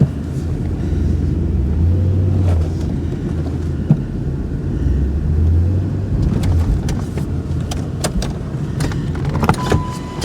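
A truck backs up while truck camping at Ricketts Glen in snow, wind and rain. A steady, close engine rumble runs the whole time with no one talking.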